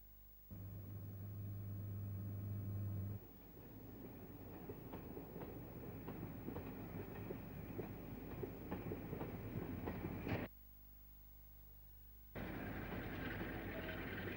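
A diesel multiple unit train rolls past in York, a loud steady rumble with clickety-clack of wheels over rail joints, cutting off abruptly and then resuming.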